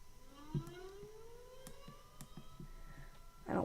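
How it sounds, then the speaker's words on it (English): A tornado siren in a storm ambiance recording, a slow rising wail that climbs steadily in pitch, faint and distant under low background noise, with a few soft knocks and a brief louder rustle at the end. "it's just a tornado siren"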